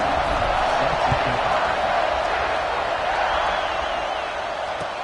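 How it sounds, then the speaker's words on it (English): A football stadium crowd before kickoff roars in a steady, dense wash of cheering and shouting that holds loud for the whole stretch and eases off slightly toward the end, with no single voice standing out. "this crowd now ready to get behind them"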